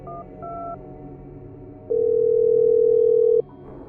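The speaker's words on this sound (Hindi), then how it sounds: "मैंने अपने दोस्त को फोन लगाया" Telephone dialing tones: two short paired beeps, then a long steady tone lasting about a second and a half, clean and alone over a quiet background.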